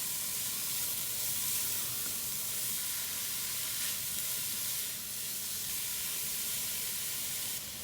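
Three grated carrots sizzle steadily as they sauté in a pan for carrot rice, a continuous close frying hiss with faint stirring scrapes and no talking.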